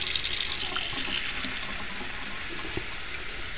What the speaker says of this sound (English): Now I'm gonna use the hottest water that comes out of my tap.